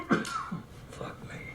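A man in a film scene coughs harshly, bringing up blood: a few rough, throaty bursts close by, with faint voices around them.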